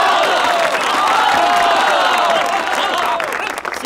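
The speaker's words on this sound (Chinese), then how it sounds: "让我们热烈掌声，有请 刘书记 给他们讲话" Warm applause and cheering from a crowd of villagers at a Yellow River village road ceremony, a dense steady roar of clapping held at full loudness before thinning slightly at the end.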